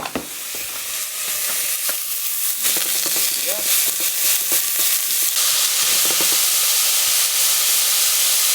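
Food fries loudly in a pan, a dense continuous sizzle and hiss close by, with the scrape and clatter of a spatula breaking it up throughout.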